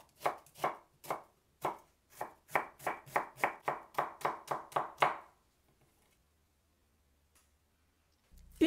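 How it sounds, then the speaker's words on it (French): Knife chopping a carrot and an onion on a board, about twenty crisp close taps in a steady quickening rhythm, then quiet, no talk. "Je coupe une carotte en petits cubes. J'émince un oignon."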